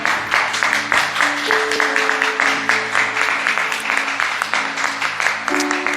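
A church congregation at a Sunday worship service applauds, dense rhythmic clapping that fills the room at high volume, with sustained musical tones and voices running underneath.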